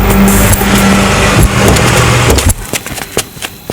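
A car engine runs loud and close, then drops away as the vehicle comes to a stop, leaving a few light clicks and knocks.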